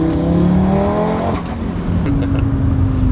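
Audi RS3 8Y accelerating hard in second gear, a loud, close engine note climbing steadily in pitch, then easing and settling into a steady drone.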